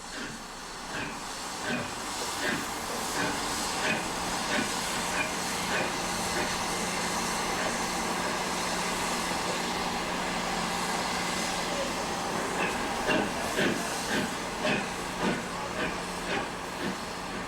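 A steam locomotive on a British railtour hisses steadily, venting steam with repeated puffs and chuffs as it creeps slowly forward, with railway ambience and occasional voices in the background.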